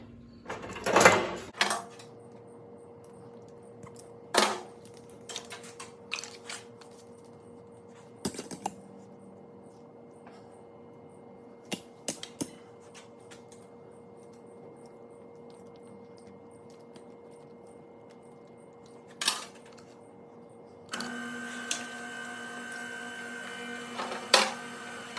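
A Vevor automatic wire stripper feeding and tearing through cable sheath, heard as a low motor drone broken by sharp mechanical clicks and clatters, with a louder buzzing run near the end; no speech.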